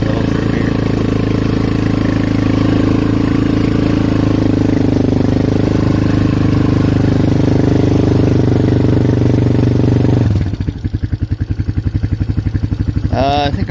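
A Polaris Magnum 425 ATV engine runs on a trail in four-wheel drive, droning loud and steady up close. Near the end it drops into a lower, rapid chugging pulse.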